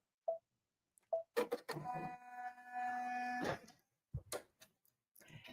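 An embroidery machine sewing fill stitches gives a few soft clicks, then a steady mechanical whirring hum for over a second, quiet and close, before faint clicks resume.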